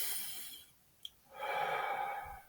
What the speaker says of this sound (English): You can take a breath.